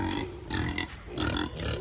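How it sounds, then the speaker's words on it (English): Pigs grunt close by in low, rhythmic bursts, several snorting grunts in quick succession with short pauses between. "All right, let me feed your pigs."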